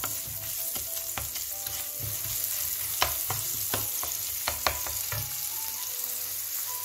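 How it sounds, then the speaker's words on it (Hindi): Garlic ginger paste sizzles in hot oil with fried onions while a utensil stirs and scrapes the pan, producing a steady crackling hiss punctuated by sharp clicks and knocks nearby. "इसके अंदर हम लहसुन अदरक की पेस्ट डालेंगे और इसे थोड़ा सा हिलाएंगे"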